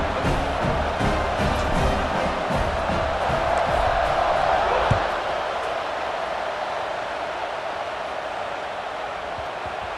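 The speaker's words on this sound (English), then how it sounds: "this crowd now ready to get behind them" A college football stadium crowd roars before kickoff, a dense, loud wash of cheering that swells and then eases into a steadier background rumble.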